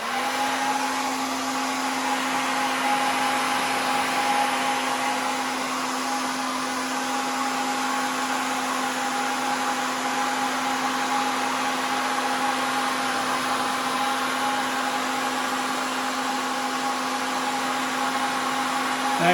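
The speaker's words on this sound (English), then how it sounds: "Here I'm now drying the embankment that I've done so far with the hairdryer." A hairdryer blows steadily while drying freshly plastered embankment on a model railway layout, a continuous close, even whirring drone with a constant tone that runs unbroken from start to finish, no voices.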